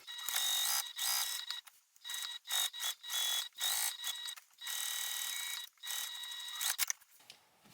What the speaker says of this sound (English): I'm just going to sew from this top side down over, which will close up the opening